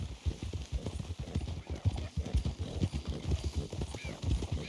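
Horse hooves clip-clop steadily on a road while riding in the video game Red Dead Redemption 2, a continuous rhythmic trot sounding close and fairly loud throughout.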